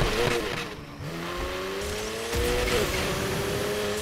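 A Mazda RX-7 drifts in the Need for Speed video game, with loud sustained tire squeal and skidding over a revving engine whose pitch climbs and shifts, continuous and close.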